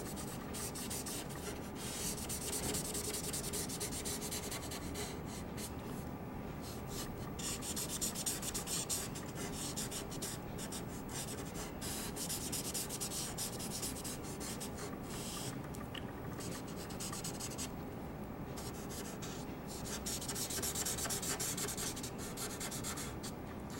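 Felt-tip color markers in warm gray shades stroke and rub continuously across paper while rendering a wood-toned sofa, a steady close scratchy swishing with no talk.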